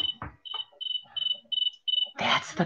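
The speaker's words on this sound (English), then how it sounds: "That's the cricket sound." Steady rhythmic cricket chirps pulse in short bursts while a person talks over them.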